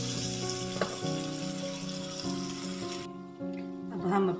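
Spiced gravy for beef koftas cooks in a pan with a soft, steady sizzle and light bubbling, set over a faint background hum that drops away partway through.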